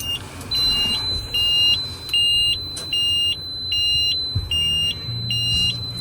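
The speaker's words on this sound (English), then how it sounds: "It's annoying, that beeping noise" Cab electronics in a vehicle with an AM sensor fault beep on power-up, a repeating series of short high-pitched electronic beeps in an even rhythm over a quiet background.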